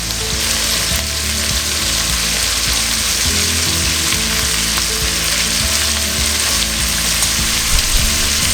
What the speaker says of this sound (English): we're going to start stirring this up